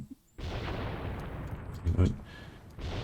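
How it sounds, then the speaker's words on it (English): Artillery fire in the Graviteam Tactics war game: a sudden booming onset gives way to a sustained rumbling roar, with a heavier blast swelling near the middle before the din eases, then resumes. "Artillery."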